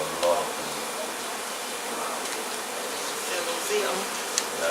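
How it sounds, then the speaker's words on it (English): Honey bees swarm around a hive being relocated, a dense, continuous buzzing drone at close range with a few brief louder passes, while people talk quietly beneath it. "And all these million bees?"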